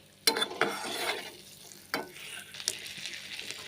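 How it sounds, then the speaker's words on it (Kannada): Eggs fry in a pan for egg biryani, a few sharp scrapes and knocks of a spatula over a continuous gentle sizzle, near and clear with no voices. "ಮೊಟ್ಟೆನ ಒಂದು ಸ್ವಲ್ಪ ಫ್ರೈ ಮಾಡ್ಕೋತೀನಿ."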